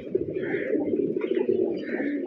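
A pigeon coos nearby in soft, rolling low calls that repeat through the moment without any talk.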